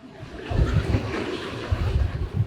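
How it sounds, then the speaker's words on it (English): Gusty wind buffeting the microphone on boat docks, a low rumbling roar that swells and dips in pulses, drowning out other sound. "you can probably hear the wind getting us now"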